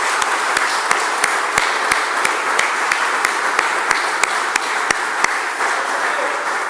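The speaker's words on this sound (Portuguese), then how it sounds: "Vamos dar uma salva de palmas ao Senhor Jesus Cristo." Church congregation applauding together, a dense, steady wash of clapping with sharp individual claps standing out rhythmically, sustained and fairly close throughout.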